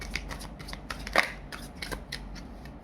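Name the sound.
shuffling and drawing tarot cards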